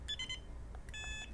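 A battery charger gives faint, short electronic beeps: a quick cluster early on, then a second run of beeps a moment later, all quiet over a low room hum.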